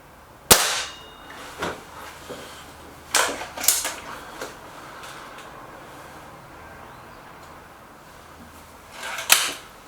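An air rifle fires Norma pellets at a target, giving a few sharp cracks and clicks spread across the span, close and crisp, with quiet gaps between them and no talking.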